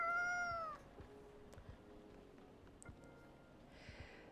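A cat meows in the cosy café game Coffee Talk, one clear, rising, close meow at the start that fades into a quiet room tone with a few soft clicks.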